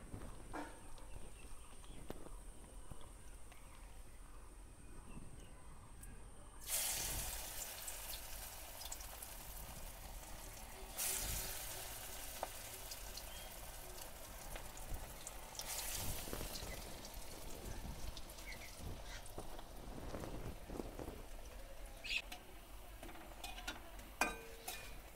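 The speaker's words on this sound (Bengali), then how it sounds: "প্রথমে আমি মটর ডালের বড়া বানাবো।" Matar dal bora, pea lentil fritters, fry in hot oil in a Bengali village kitchen, giving a faint, steady sizzle and crackle with occasional louder pops across a long stretch without talk.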